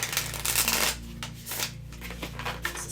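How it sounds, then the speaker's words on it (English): A newer deck of tarot cards being shuffled up close, with a soft riffling, flapping rustle that comes in short bursts. "So we're gonna shuffle these on camera."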